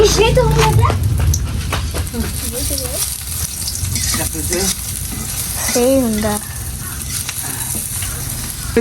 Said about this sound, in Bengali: কড়াই তো প্রচুর ধরছে কড়াই, এখন হালকা করে ভাজবো